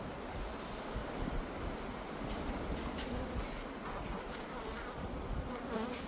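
Honey bees buzz densely and continuously around hive frames, a close, steady swarm drone with no voices.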